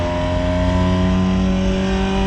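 Race car engine in a racing video game played on a sim-racing steering wheel, a loud sustained droning roar with steady harmonic whine, held at constant revs without pause.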